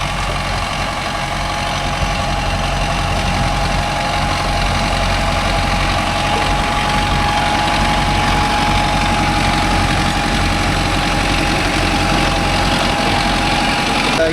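A Mahindra Arjun Novo 605S tractor fitted with a rotavator idles close by, its diesel engine holding a loud, steady, vibrating rumble with a constant whine throughout and no voices.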